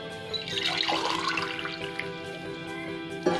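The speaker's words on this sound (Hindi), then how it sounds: "दाल को पानी 2 ग्लास करीब पानी ऐड कर देंगे।" Water is poured from a glass into a pot of lentils for dal, a steady splashing stream that runs for about three seconds before a short clatter at the end.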